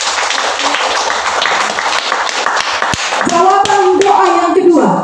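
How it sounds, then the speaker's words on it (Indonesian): A church congregation claps hands during a sermon, dense and close at first, then giving way to voices and sustained tones as the clapping thins out. "Tepuk tangan dulu buat Tuhan"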